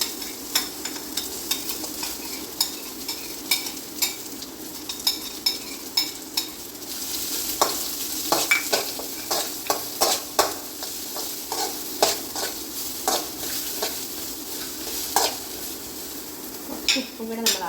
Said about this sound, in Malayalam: അടുത്ത് നമ്മൾ സവോള ഇടുന്നു.